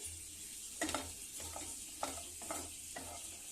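Onions fry in oil in a pan for an okra curry, a continuous soft sizzle broken by several sharp stirring scrapes and clinks of a spoon against the pan, close and without talk.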